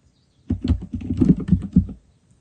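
A burst of computer keyboard typing as a command is entered into the in-game console of Counter-Strike 2, several quick close key clicks over about a second and a half, then silence.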